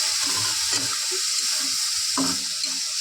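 Chicken masala frying in a pan as water is poured in, giving a steady close hiss and sizzle throughout with faint scraping stirs and no talking.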